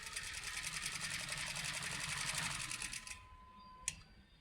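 Sewing machine stitching in a fast, even mechanical patter for about three seconds, then stopping, followed by a faint click and a soft sharp tap.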